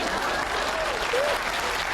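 A steady wash of applause and crowd noise fills the whole brief moment, even and continuous without a break, while a faint voice can be heard beneath it.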